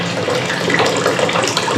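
Water gushing from a tap into a bath as it fills, a loud continuous broadband splashing rush that stays steady throughout with no voices.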